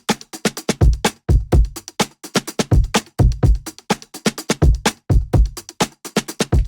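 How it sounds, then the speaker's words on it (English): A looping drum beat for a song, with punchy kicks and crisp snare and hi-hat hits in a steady, repeating pattern, loud and alone with no voices. "I have a drum loop that sounds like this."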